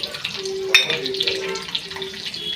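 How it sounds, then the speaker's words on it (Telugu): Garlic sizzles in hot oil while being stirred for an egg pasta, giving a soft crackling fry with scraping and clinking of a spoon against the pan, brief and close, with a voice talking over it. "కాస్తంత నూనె వేడయ్యాక ఎల్లిపాయ వేసుకోవాలి. ఇది కలుపుకోవాలి ఇలాగా."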